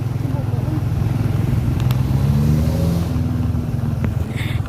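Motorcycles travel along a rough, damaged road, their engines buzzing steadily close by and lifting briefly as one passes, with talk running over the engine noise.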